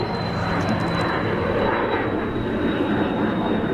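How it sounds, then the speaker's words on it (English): Cessna Citation business jet passing at Zurich Kloten Airport, a broad steady engine roar with a thin whine, heard from a spotting point at moderate distance. "That looks like a citation or something."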